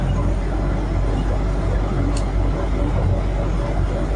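Steady, even rumble and hiss of an automated driverless metro train running in Lille, heard from inside the small two-car train with no break in the continuous drone.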